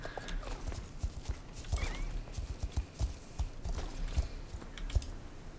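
Horse in a video game: quick clip-clop hoofbeats in an irregular walking rhythm, close and fairly clear, with a short neigh woven in partway through.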